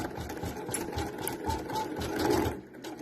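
Embroidery machine stitching a letter onto a poly school folder, a steady rapid mechanical whirring and rattling with knocking pulses, close and continuous, no talking.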